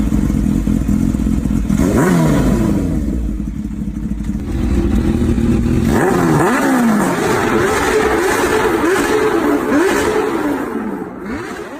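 A supercharged 998cc inline-four Kawasaki Ninja H2 motorcycle engine revs repeatedly, pitch sweeping up and down in loud bursts, close and continuous with no talk.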